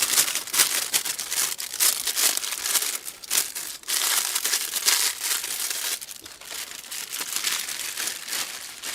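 A paper bag holding tea-light candles crinkles and rustles close by, a steady run of crisp crackles with no voices.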